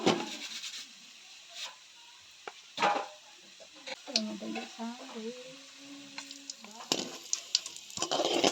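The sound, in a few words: vada frying in hot oil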